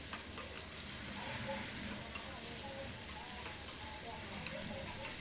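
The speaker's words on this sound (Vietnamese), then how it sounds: "Mình sẽ xào cho thịt vịt săn lại," Steady sizzling of duck meat stir-frying in a pan with onion and ginger, occasional stirring clinks, a continuous moderate crackle throughout.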